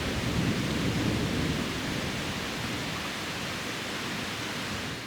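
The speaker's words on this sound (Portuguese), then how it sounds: "Aqui chove forte." Heavy rain pours steadily during an afternoon thunderstorm in Manaus, a dense, continuous roar with deep low rumble underneath, loud and close throughout with no voices.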